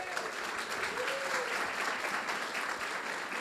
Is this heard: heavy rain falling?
no